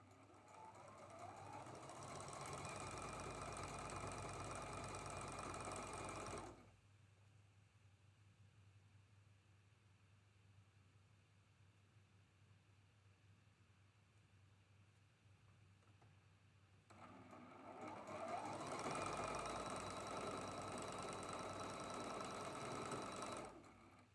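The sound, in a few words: sewing machine sewing seams of quilt blocks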